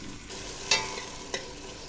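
Red onions fry in oil in a big pot, giving a soft, steady sizzle with two sharp scraping clinks as they are stirred.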